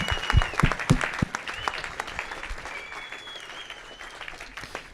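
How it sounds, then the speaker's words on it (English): A standing ovation after a startup founder's talk brings sustained applause from an audience, with a few sharp nearby claps and a whistle rising above the crowd. "It's a standing ovation, folks. Keep it going. Let me hear that wave of applause."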